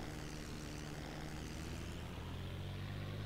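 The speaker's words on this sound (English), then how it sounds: "you can hear the engine powering up" A propeller aircraft engine in the flight simulator IL-2 1946 drones loudly and steadily as it powers up with prop pitch near 100%, its pitch and power holding at a constant roar throughout.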